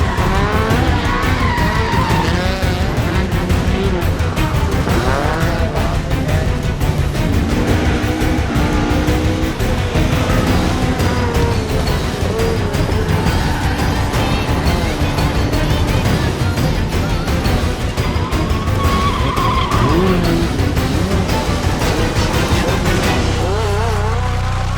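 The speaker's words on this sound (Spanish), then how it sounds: "El padre de todos los drift cars, el auténtico rey del drifting mundial, uno de los modelos más icónicos y legendarios en esta disciplina, el AE86" Toyota AE86 Hachiroku drifting with squealing, skidding tires over a continuous engine roar, loud and sustained throughout with no break.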